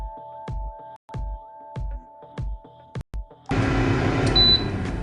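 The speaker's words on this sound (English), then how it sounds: "Going to hit cancel to stop that beeping." An Emeril Lagasse pressure air fryer beeps at the end of its cook: a series of evenly spaced electronic tones, about five in a row, then a louder burst of broadband noise as the machine's cycle shifts.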